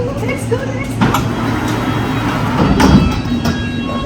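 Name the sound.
train at station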